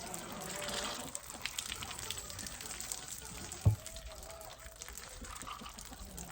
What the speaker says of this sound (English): We gotta squeeze this water out.